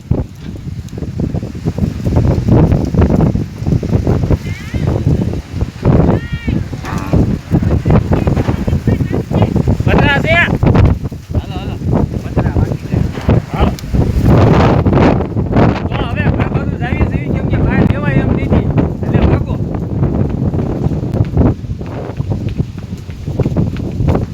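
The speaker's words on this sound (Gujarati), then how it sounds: "આ ઓચિંતાનું વાવાઝોડું આવી ગયું" A sudden windstorm roars over a village, loud gusting wind buffeting the microphone continuously with rustling and banging, and a voice talks through it.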